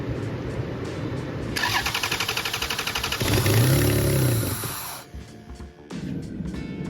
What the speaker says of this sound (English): I'm gonna attempt to start it and see if it leaks.